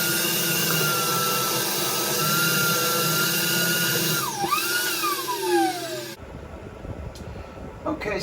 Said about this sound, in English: So we're going to be cleaning that out with the vacuum.